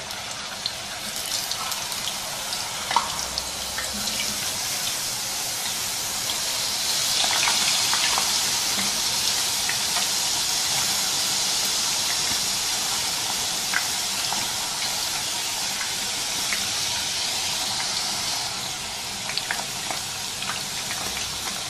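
Potato chips frying in hot oil in a kadai over high heat, a broad steady hiss and bubbling sizzle that swells midway and continues evenly, no voices.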